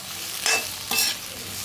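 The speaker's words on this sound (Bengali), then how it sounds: "এর সঙ্গে ক্যাপসিকামটা পেঁয়াজটা তেলের সঙ্গে একটু ভেজে নিচ্ছি" Capsicum and onion fry in oil under a steady, hissing sizzle, with two brief surges as a spatula stirs them through the pan.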